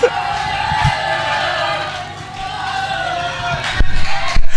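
A church congregation shouts and cries out together during a Pentecostal-style service, a loud, sustained roar of voices with whoops and yells that swells again toward the end.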